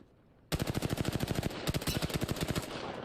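Rapid automatic gunfire from the Apex Legends video game, a loud sustained burst of evenly spaced shots with a brief hitch midway, starting abruptly after a moment of quiet.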